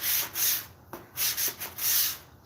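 A sanding sponge rubs back and forth along the edge of a wooden surface, giving several close, rhythmic scratchy strokes with no talking.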